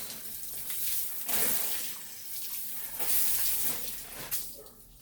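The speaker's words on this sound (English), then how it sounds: "let me wet this one down as well, just so it can take some water in through the leaves." Water sprays from a hose onto the leaves of a potted Italian cypress tree outdoors, a steady hissing rush that surges louder in a few bursts and then eases, with no talking.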